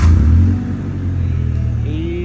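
A Honda Civic engine idles at lowered RPM with a steady low rumble and a brief rev-down at the start, close and continuous, with no talk.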